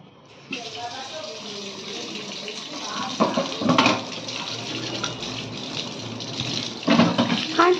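A small child plays with water in a kitchen, making a continuous wash of running, splashing water with a few sharper splashes, while someone talks over it.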